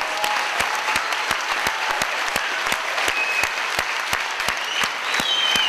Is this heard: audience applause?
yes